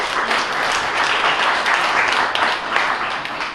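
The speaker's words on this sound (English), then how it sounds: "Let's give a round of applause to Professor Peter." Sustained applause from a conference audience follows a presentation at an academic event, a dense, loud wash of clapping that fills the whole moment with no break.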